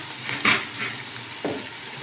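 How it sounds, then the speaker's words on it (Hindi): Finely chopped onions added to hot oil with cumin seeds, frying in a pan for baingan bharta, a soft close sizzle with a couple of brief stirring bursts and no talk. "प्याज को हम हल्का फ्राई करेंगे ताकि इसका कच्चापन वो ख़त्म हो जाए"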